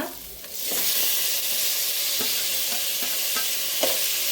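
Green chilies and chopped tomato hit hot oil in a pan for a mushroom curry, bursting into a loud, steady sizzle with occasional stirring scrapes and clicks, no voices over it.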